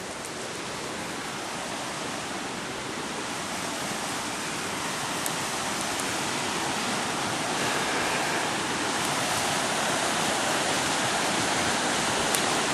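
Steady broadband rush of creek water flowing through a wooded area with pine-needle ground, continuous and fairly loud with no voices.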